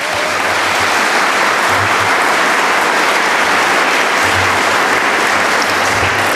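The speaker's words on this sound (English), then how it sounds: "Join me in thanking them with a round of applause" A packed audience at the Washington County political forum claps loudly and continuously, a dense, even wash of applause filling the room with no talking over it.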